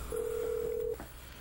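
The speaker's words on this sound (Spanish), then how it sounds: "pero no hay nadie que coge ese teléfono" A single steady electronic ringback tone from a school telephone that goes unanswered, lasting just under a second before fading to quiet background.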